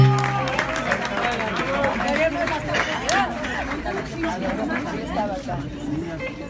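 Crowd noise at a tribute concert for Mexican women rock and blues singers: loud chatter and cheering with some clapping mixed in, a busy, continuous hubbub of many voices.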